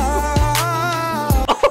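A single person's cough, a few short loud bursts close by, with some voiced throat sound between them and no speech.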